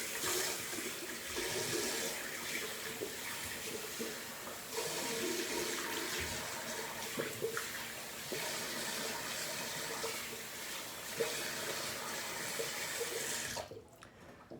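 Water runs steadily from a tap into a sink for rinsing after a double-edge razor shave, a continuous close hiss and splash lasting about fourteen seconds before cutting off abruptly.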